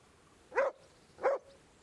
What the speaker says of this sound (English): Right, now we got a dog.